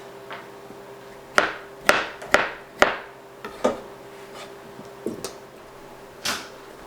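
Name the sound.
knife cutting pickle spears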